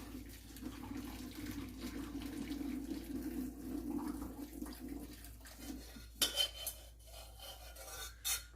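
Liquid drains from a pot of green bananas and chicken gizzards in escabeche, a steady faint trickle and pour that stops near the end, followed by a few clinks of a utensil against the pot.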